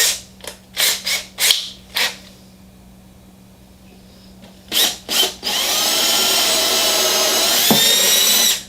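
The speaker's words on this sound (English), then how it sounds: "Before I go coring a humongous hole in it." Several short bursts of a power drill whirring near, then a long steady high-pitched drilling run as a core bit bores a large hole through a boat's hull during a steering system installation.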